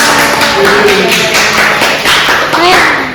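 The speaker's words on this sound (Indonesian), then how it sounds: "Tepuk tangan dulu buat Aina" A university class claps for a classmate at the end of a lecture, loud, close and continuous, with voices talking over the clapping.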